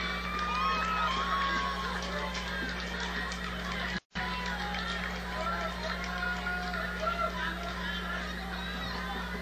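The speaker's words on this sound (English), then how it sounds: "We have ourselves a pretty lively crowd here at Al Houghton Stadium" Lively crowd noise fills the stands at Al Houghton Stadium during a Washington baseball semifinal, a steady dense roar with chatter and shouts throughout, broken by a brief dropout near the middle.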